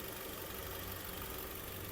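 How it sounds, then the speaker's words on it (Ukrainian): A 2002 Nissan X-Trail with a 2.0 petrol engine and automatic gearbox idles with a steady, even hum, close and constant throughout, no talk over it. "Рівненька, чистенька робота двигуна."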